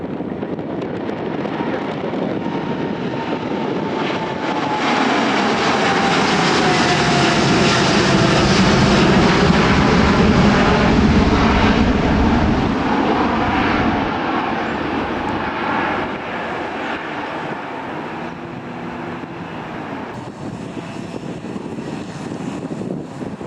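An airliner roars along the runway at Birmingham Airport, a loud sustained engine rumble that swells and slowly fades with wind buffeting the microphone.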